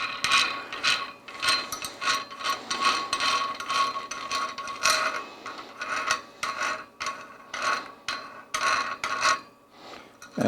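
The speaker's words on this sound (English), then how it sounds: "we unscrew this little handle here" Metal handle being unscrewed on a Celestron CGX telescope mount, producing a close series of short rasping, ratcheting clicks and scrapes in quick irregular bursts, with no talking.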